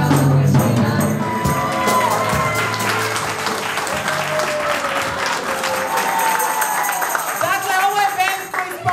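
An audience at a live event applauds a rock band, dense sustained clapping throughout with crowd noise and a voice talking over it.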